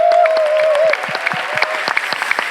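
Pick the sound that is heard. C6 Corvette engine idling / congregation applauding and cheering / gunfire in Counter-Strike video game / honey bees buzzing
congregation applauding and cheering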